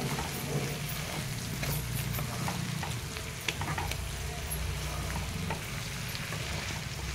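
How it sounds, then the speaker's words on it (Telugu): Onions being stirred into bitter gourd frying in a pan, with a steady sizzle under irregular scraping and stirring strokes throughout, close and moderately loud, no voices. "ఇప్పుడు ఇందులోకి ఆనియన్స్ అన్నీ వేసేసుకుందాము. ఒకసారి కలుపుకుందాము."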